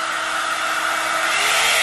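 A Revlon hot air kit blow dryer runs with a loud, steady whooshing hiss of motor and airflow, continuous and close, with no speech over it.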